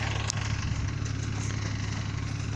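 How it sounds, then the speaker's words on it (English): A mower engine idles steadily on an old golf course, a continuous low mechanical drone that holds level and close throughout, with a faint click near the start and no talk. "Today I'm going to mow some tees."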